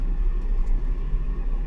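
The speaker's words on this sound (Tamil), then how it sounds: "இந்த இடத்துல இந்த கார் பார்த்தீங்கன்னா ஒரு ஃபுல் பள்ளத்துக்குள்ளே போகுது" An Audi Q SUV driving off-road into a pit gives a low, steady engine rumble from inside the cabin, with no voices.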